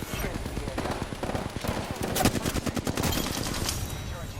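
Rapid automatic gunfire in the battle royale game Apex Legends, dense bursts of shots crackling continuously throughout at close range.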